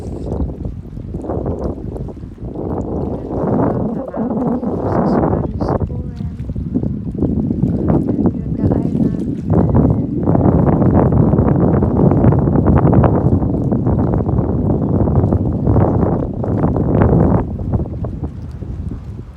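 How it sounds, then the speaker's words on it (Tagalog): Steady wind buffets the microphone in a continuous, rough roar at Spanish Point, Bermuda, with a faint wash of shallow low-tide sea beneath it and no clear breaks. "Mahangin dito, mahangin."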